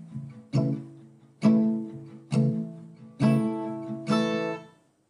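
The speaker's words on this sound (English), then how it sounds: "if the palm mute slightly, which is just resting the edge of your hand right where the strings go over the saddle" Acoustic guitar strummed with light palm muting, the edge of the hand resting near the saddle, in a song: five evenly spaced, slightly damped strums that fade out at the end.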